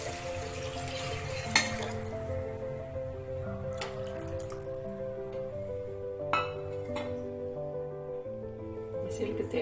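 Karunai kizhangu masiyal sautés in a pan with a low sizzle, broken by a few clinks of a utensil against the cookware, heard at moderate volume under steady background tones.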